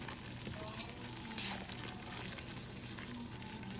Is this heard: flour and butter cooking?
yes